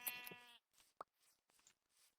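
Sheep bleating in Minecraft: one short, wavering bleat at the start, followed by faint soft taps and rustles at low volume.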